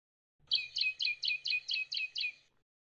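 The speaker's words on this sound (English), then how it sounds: "here's a healthy medium tree finch" A healthy medium tree finch sings a clear, high series of about eight quick, evenly spaced two-part chirps lasting around two seconds, close and alone against silence.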